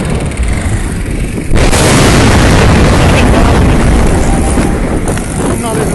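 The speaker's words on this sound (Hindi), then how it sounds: "धमाके शाहदरा मोड़ पे।" Loud, sustained roar and rumbling bursts from a burning gas leak at the Shell petrol pump at Shahdara Mor in Lahore, starting suddenly and continuing as a dense, chaotic wall of noise with a voice faintly underneath.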